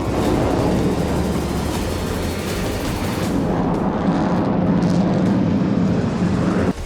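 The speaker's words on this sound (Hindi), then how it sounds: "यूक्रेन के एक एयरबेस से F-16 फाइटर जेट ने उड़ान भरी" An F-16 fighter jet takes off from a Ukrainian airbase with a loud, sustained roar that shifts in tone partway through as the aircraft climbs away, a broadband rush with no voices.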